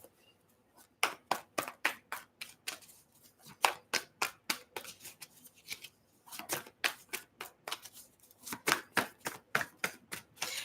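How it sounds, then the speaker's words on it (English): Tarot cards are shuffled by hand in quick bursts of crisp riffling slaps, the sharp clusters repeating in uneven groups with brief pauses between them, close and alone. "I keep coming back here and wanting to shuffle"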